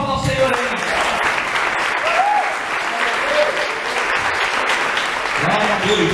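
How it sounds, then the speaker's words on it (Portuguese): A church congregation applauds loudly and steadily throughout, with the clapping mixed with voices, cheering and background sound from the room. "Dá uma forte salva de palmas ao Senhor aí."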